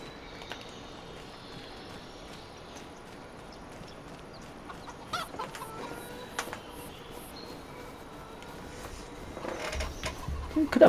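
Chickens in Farming Simulator 25 cluck faintly at first, then grow louder and denser toward the end of a quiet farmyard scene with light ambient noise and scattered clicks.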